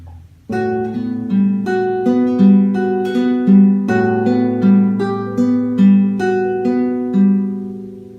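Steady rolling triplet arpeggios of Romance d'Amour plucked on a nylon-string classical guitar, notes repeating in groups of three with a clear, even rhythm, played alone.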